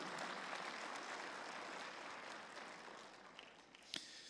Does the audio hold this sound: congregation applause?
yes